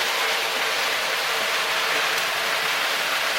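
Rolled oats pour steadily from a 25-pound bag into a mylar storage bag, giving a continuous dense hiss and rush of grains that stays even and unbroken for the whole stretch.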